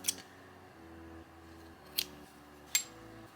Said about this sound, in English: Chain 1 and cut off your work for the last time.